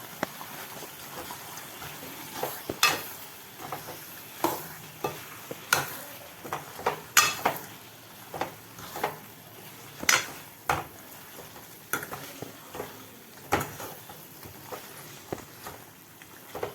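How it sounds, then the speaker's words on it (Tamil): Mutton being stirred into masala in a pot for a Sunday special mutton gravy: a steady run of scraping spoon strokes against the pan, roughly one every second, with a soft sizzle underneath, close by and moderately loud. "இப்போ நம்ம இதில் மட்டன் எடுத்து போட போகிறோம்."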